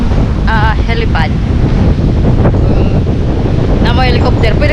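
Strong wind buffets the microphone in a loud, constant roar on Carnaza Island, near a helipad, with a voice speaking briefly over it.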